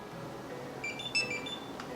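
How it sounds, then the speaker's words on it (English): A Bissell Crosswave X7 cordless wet-dry vacuum emits short electronic beeps on entering Wi-Fi pairing mode, a few brief tones at moderate level over a steady background hum. "once you guys hear the beep"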